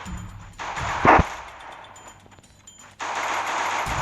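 Automatic gunfire in the Free Fire battle royale mobile game, with rapid bursts cutting in and out, a sharp loud shot cluster near the middle and sustained firing at the end.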